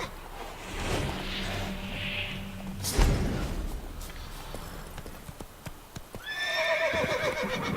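A horse in Witcher 3 whinnies in a bright, wavering call near the end, after earlier hoof clops and a heavy thump, all set against a steady game ambience.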